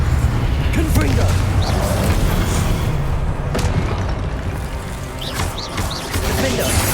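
Confringo fire spell explosions in Hogwarts Legacy, dense booms and crashes in a busy magical duel, with spoken spell names layered over the blasts.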